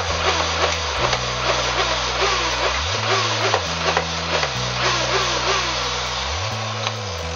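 Nerf Rev Reaper blaster firing foam darts from a modded 15-dart magazine, its motors whirring up and down in repeated bursts with mechanical clicks, close and loud.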